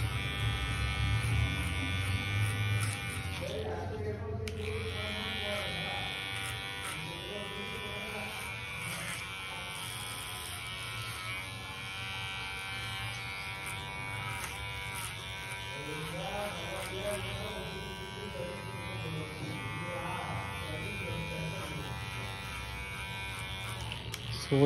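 Electric hair clippers cut hair during a short-style men's haircut, giving a steady, close buzz that runs without a break for the whole stretch.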